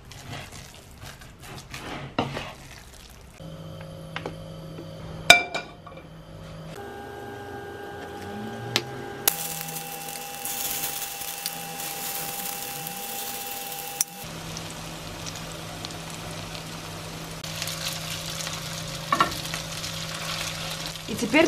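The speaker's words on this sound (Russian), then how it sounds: "И хорошенько перемешиваю." Quiet scraping and stirring in a pan over a low sizzle, with occasional sharp clinks of a utensil, close up and steady, with no talking.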